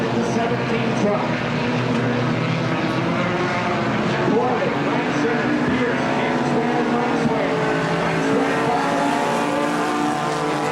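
Race trucks roar around a dirt speedway at Cottage Grove, engines droning loud and continuous with layered overlapping revs as several trucks pass, an announcer talking over the steady racing noise.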